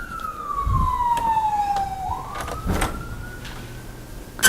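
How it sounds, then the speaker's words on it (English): An emergency vehicle siren sounds from outside, wailing downward and then rising again, moderately loud, with a few clunks from a door and soft background noise. "I'll close the door to get rid of that siren."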